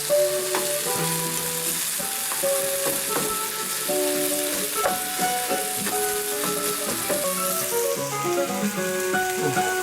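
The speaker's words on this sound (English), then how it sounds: "Sausage, seared up, browned, and then a couple eggs in with it." Sausage and a couple of eggs fry in a pan during an overnight outing, a loud steady crackling sizzle with intermittent pops and light stirring knocks, close up and free of speech.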